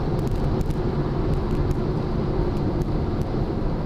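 Mazda RX7 FD rotary engine pulling hard toward 7,500 RPM on a private road, a loud, steady, dense roar with wind rush held throughout, no speech.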